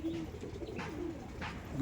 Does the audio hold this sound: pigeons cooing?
yes